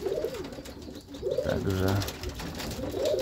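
Racing pigeons in a loft coo in repeated soft, throaty phrases close by, with a brief spoken word and the rustle of the birds in the loft behind.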